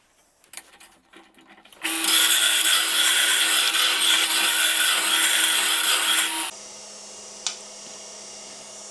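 A woodturning lathe runs as a bowl gouge hollows a piece of oak held in chuck jaws: after a few light knocks the steady, loud cutting roar starts abruptly, holds for several seconds, then drops to a quieter motor hum with one sharp tick.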